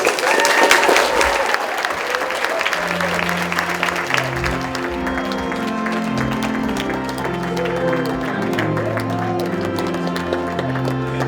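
Wedding guests applaud at the close of a ceremony, a loud burst of crowd clapping that fades as music begins to play underneath and then takes over.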